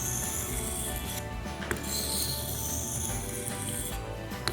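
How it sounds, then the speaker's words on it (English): A steel knife blade is drawn back and forth across a whetstone, giving a close, steady scraping and rasping with short strokes and occasional small clicks. "as it's cutting away at the metal of the blade"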